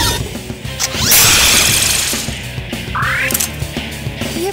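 Mechanical drilling and ratcheting effects from the PlayStation 2 game Persona 4, loud and busy, with whirring bursts and clanks layered over a dense game soundtrack.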